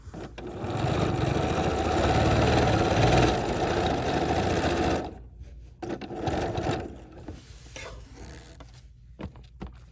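A BERNINA 990 sewing machine stitching a watermelon mat, running loud and steady for about five seconds, then stopping and giving a few shorter bursts with softer handling sounds.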